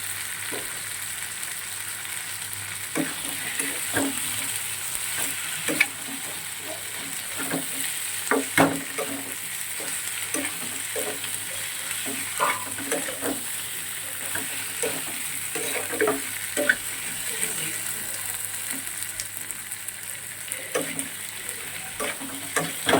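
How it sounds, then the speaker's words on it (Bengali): Continuous sizzling of chutney being stir-fried in a pan, a close steady hiss punctuated by frequent irregular scrapes and taps of the spatula against the pan throughout. "বেশ একটু কিছু সময় কষাবো।"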